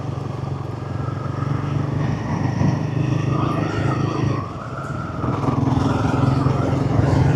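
A Royal Enfield 450 motorcycle ridden through the streets of Staffordshire, its engine a steady close drone that dips briefly and then climbs again as the throttle changes.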